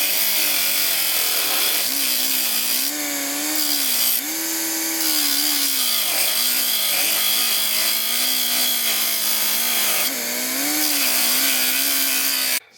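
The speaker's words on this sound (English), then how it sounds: "You gotta cut a notch in them." A power tool cuts notches into car cowl screws, a steady buzzing whine with shifting pitch running continuously and loud, surging harder in a few bursts.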